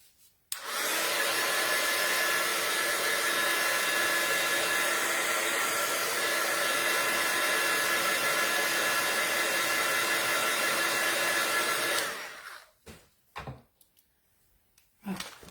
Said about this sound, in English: Well, I've got the heat tool going.